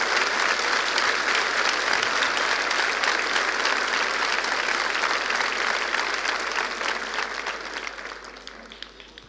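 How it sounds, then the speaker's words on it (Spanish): An audience at a church service breaks into loud, sustained applause, dense clapping filling the space before gradually tapering off near the end. "¿Cuántos le dan un aplauso al Rey de Reyes,"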